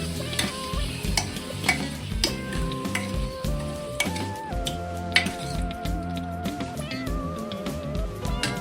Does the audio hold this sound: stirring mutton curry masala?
yes